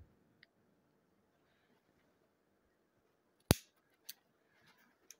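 Close, crisp snips of scissors trimming needles on a Norfolk Island pine bonsai forest, a few sharp cuts spaced apart after a mostly quiet stretch.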